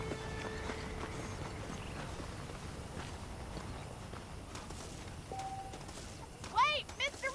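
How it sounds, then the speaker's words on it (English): Horse hooves clip-clop in the Red Dead Redemption game, a soft irregular patter over a dull ambient bed, with a brief tonal blip and a louder rustling burst near the end. "The horses are saddled up over here."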